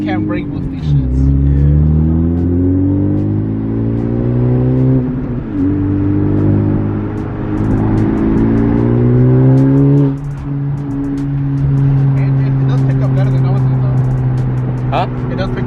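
A 2021 Honda Civic Type R fitted with a PRL catted downpipe pulls hard through the gears, loud engine drone climbing in pitch with brief dips at each shift, while people talk inside the car.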